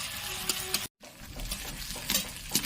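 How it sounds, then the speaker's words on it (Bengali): Ginger, garlic and green chili paste fries in a pan, sizzling steadily up close with scraping stirs and a brief gap partway through. "এবার এগুলো একটু হালকা লাল লাল করে ভেজে নেব।"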